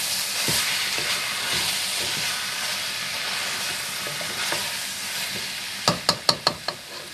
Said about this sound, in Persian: حالا سبزیایی رو که سرخ کردیم به گوشتمون اضافه میکنیم. یه تفت کوچیک هم میدیم.